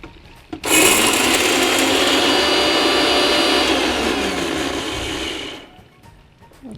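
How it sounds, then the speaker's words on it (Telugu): A kitchen mixer grinder whirs loudly for about five seconds, grinding dry chillies, mustard seeds and salt into a spice powder, starting abruptly after a click and winding down with a fading hum. "మిక్సీ చేసుకుందాం."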